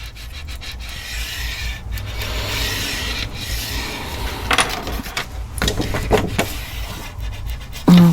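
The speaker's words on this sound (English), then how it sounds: "And then let's go ahead and burnish." A paper flap is burnished along its score line for a handmade photo album, a close series of dry rubbing and scraping strokes with brief pauses and a sharper tap at the end, with no voices.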